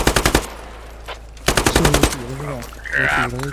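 Machine-gun bursts fire at a vehicle in the video game Squad, two loud rapid strings of shots separated by a pause, followed by someone talking.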